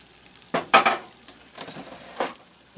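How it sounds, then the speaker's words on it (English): Butter simmering in a pan while being made into ghee, a soft crackling sizzle with a few louder bursts of bubbling and stirring scrapes near the mic, no one talking. "I feel like I should be boiling it more."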